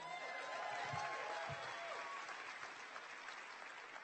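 A church congregation at an 8 a.m. service claps and cheers, a sustained wash of applause and crowd noise heard from some distance, with faint voices underneath.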